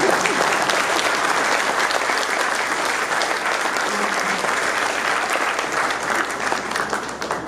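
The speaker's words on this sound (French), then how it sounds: "Applaudissez." A large crowd claps steadily at a Moroccan Throne Day celebration in Montreal, with dense, sustained applause holding at an even loudness throughout.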